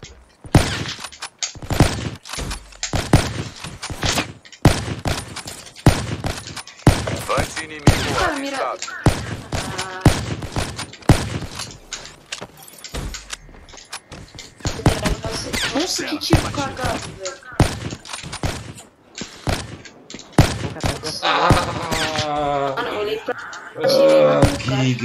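Gunfire in Black Ops III on Xbox comes in repeated bursts and single cracks, sharp and close, scattered across a long stretch of play with a player talking over much of it.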